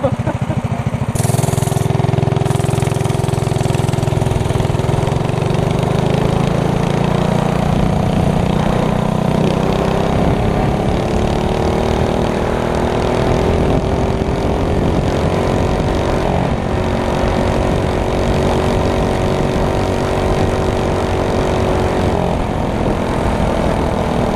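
A home-built 5HP engine on a minibike drones loudly and continuously, its pitch rising as it revs, with a few sharp backfire pops near the start.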